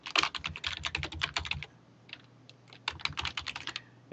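Rapid bursts of key clicks on a computer keyboard as a web address is typed, two quick runs separated by a short pause, close and clear with no talk.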